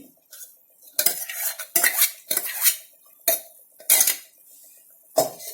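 A ladle stirs aloo dum biryani rice in a metal pot, scraping and clanking in about six separate bursts with quiet gaps between, close up and with no voices.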